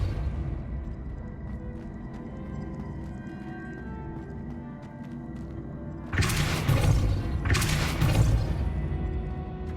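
Spell blasts from Depulso and Descendo in the Hogwarts Legacy game: two loud broadband bursts land about a second apart near the end, over a steady low ambient hum.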